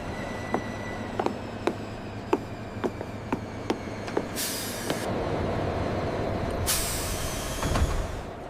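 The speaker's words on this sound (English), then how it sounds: "Here comes the train!" A long train pulls into a station platform, its air brakes giving sharp hisses and bursts of escaping air over a steady low rumble, with clicking rail noises early on.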